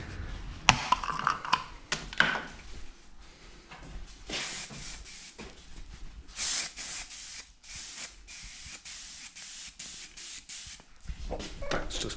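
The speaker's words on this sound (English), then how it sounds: "Gonna shoot some of this etching primer on there before we stick a top coat on." An aerosol can sprays etching primer onto KTM EXC 250 F dirt bike parts in a series of close hissing bursts, some short and some held, between clicks and quiet pauses.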